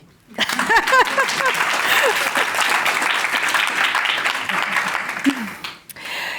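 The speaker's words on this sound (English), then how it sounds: "Round of applause" A conference audience applauds steadily for several seconds, the dense clapping rising quickly and holding before fading, with a few voices and a brief cheer briefly heard over it.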